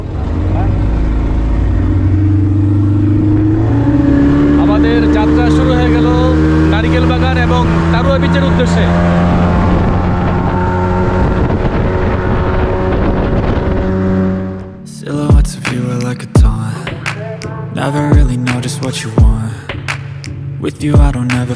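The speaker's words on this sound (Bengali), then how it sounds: "এই যে আমাদের স্পিড বোর্ড চলে আসছে আমরা এই স্পিড বোট দিয়ে যাত্রা শুরু করব" A speedboat engine on the water near Char Kukri Mukri in Bhola, Bay of Bengal, drones loud and steady with a rising and falling pitch before giving way abruptly to music.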